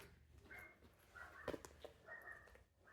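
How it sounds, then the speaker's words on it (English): A few dog barks sound at a moderate distance, including one sharper, louder bark, over a steady indoor background. "If you hear the dogs barking"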